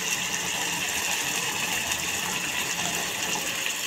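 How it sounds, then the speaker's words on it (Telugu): Water gushes steadily into a cooking pot holding mutton fat and a ground spice paste for soup, making a continuous close, even splashing pour with no talk. "కొన్ని నీళ్ళు పోసేసుకొని"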